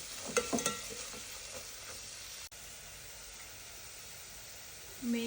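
Salt and curry leaves stirred in a hot pan, a few scraping strokes at the start, then a steady sizzle and hiss continues alone.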